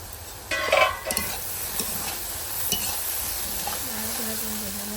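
Pitha filling stir-fries in a pan, a steady sizzle with a burst of clattering spatula strokes early on, then lighter scrapes and a faint tonal whine near the end, without any speech.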